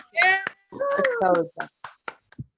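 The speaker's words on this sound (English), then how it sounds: "let's give them a huge round of applause." A few scattered claps from summer camp participants on a live online call, mixed with excited children's voices calling out between them.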